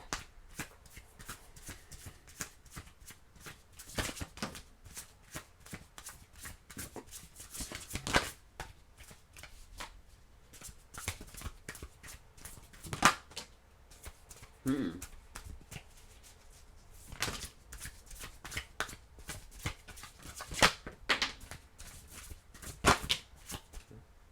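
Tarot cards being shuffled by hand, a steady run of crisp riffling and slapping bursts repeating for about twenty seconds, close and fairly quiet, with some faint talk at moments.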